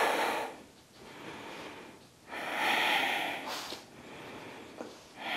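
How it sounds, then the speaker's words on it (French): Slow, deep breaths during a gentle French-led vinyasa yoga session, with long airy inhales and exhales rising and falling in a steady rhythm, close and fairly quiet, with no talking. "Prendre 3 respirations ici."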